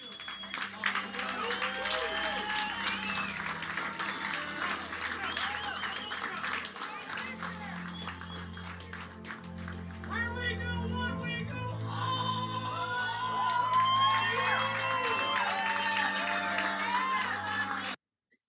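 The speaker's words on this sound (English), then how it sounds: "someone in the audience scream a little something out" A political rally crowd cheers and claps loudly and steadily for the whole stretch, with scattered shouts and whistles rising above the roar before it cuts off abruptly at the end.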